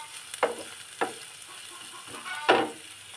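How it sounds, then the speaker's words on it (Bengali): Onion and chili frying in hot oil, a steady close sizzle with three sharp stirring scrapes spaced through it, the last one loudest. "এই তার জন্য এখানে পেঁয়াজ মরিচ দিয়ে দিচ্ছি। আমি এখন ওগুলো ভাজা নিব।"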